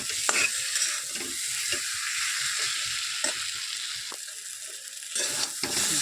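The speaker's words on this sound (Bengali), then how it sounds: "এটা আমি এইটার সাথেই কষিয়ে নেবো একসাথে" Radhuni spice fries and is stirred in a pan for a prawn curry. A spoon scrapes in repeated, close strokes over a constant bright sizzle, with short pauses between the strokes.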